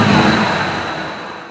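A Ford 5.0 Mustang engine fitted with a Pertronix TFI ignition revs up close and loud, then its roar steadily fades as the revs drop back.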